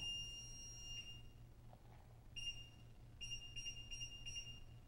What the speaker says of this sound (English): I had one short beep followed by four short beeps